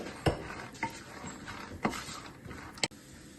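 Cashews and raisins are stirred in ghee in a pan while being roasted for rava laddu. A few distinct clinks and scrapes of a spoon against the pan fall about once a second over a quiet background.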